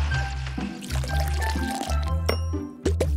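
Soda poured from a bottle into a glass at home, a steady liquid fill lasting a few seconds with faint splashes and a brief clink near the end, heard close up without talk.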